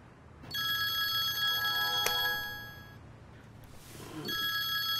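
A telephone rings at night indoors in a Hindi-dubbed drama scene, with a bright electronic ring tone sounding in two bursts separated by a short pause, close and clear above a quiet room hum.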